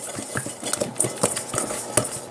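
Masa being mixed by hand for mandarin atole, giving soft, irregular squishing and light taps close by, with no talk.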